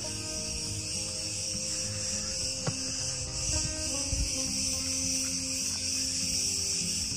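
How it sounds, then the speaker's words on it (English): Bugs chirp in a steady, dense outdoor chorus in Crete, a continuous high shimmer running through the whole stretch with faint clicks and light background rustle beneath. "if you know what these bugs are that make this noise, please let me know"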